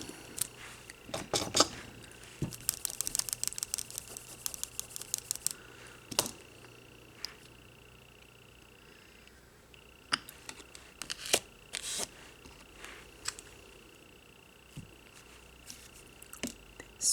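Nail polish being scraped across a metal nail-art stamping plate, a series of short sharp scraping clicks in bursts with quieter gaps between, close and alone without talk.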